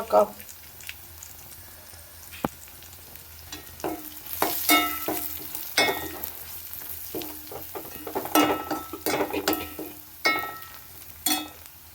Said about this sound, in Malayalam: ഉള്ളി വെളുത്തുള്ളി ചുമന്നുള്ളി കടുകിട്ട് പൊട്ടിച്ചിട്ടുണ്ട് കറിവേപ്പില ഇട്ടുണ്ട്